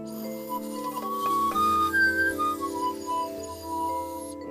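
Someone plays a bamboo wind instrument with soft, breathy, whistle-like sustained tones that slide between a few notes. It is fairly quiet and heard alone.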